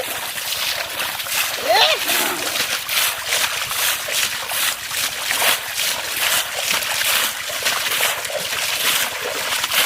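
Water splashes again and again as it is thrown and poured by hand while fish are caught in a muddy pond, in a steady, rhythmic run of close, loud sloshes, with voices faintly underneath.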